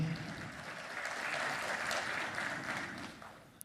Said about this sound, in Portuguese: Uma salva de palmas para o Cláudio, por favor.